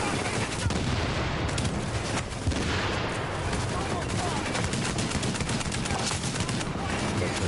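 Sustained gunfire in The Division, a shooter game, with a rapid, dense stream of shots and bursts continuing throughout, loud and close, with a faint voice now and then beneath the shooting.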